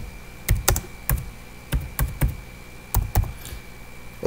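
Typing on a computer keyboard while entering a name in Revit, with sharp clustered keystrokes in short irregular runs, close and clear with no talking.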